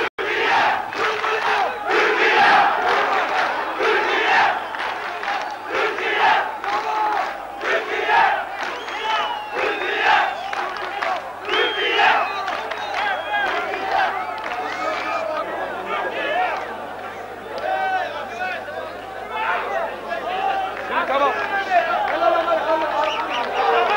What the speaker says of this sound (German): Dann jedoch schreit das Publikum den Türken zum Erfolg.